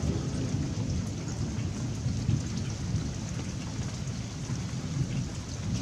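Thunderstorm during a freezing rain storm in Quebec, with steady heavy rain pouring down and deep rumbling thunder rolling continuously underneath, loud and enveloping throughout with no voices.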